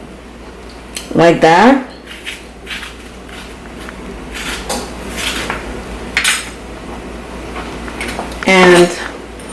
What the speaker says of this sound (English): I scrape the seeds out